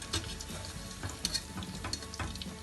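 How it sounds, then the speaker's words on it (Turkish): Steady sizzling of meatballs frying in hot oil, with occasional pops and light stirring clatter, close and continuous. "Köfteleri kızartacağım."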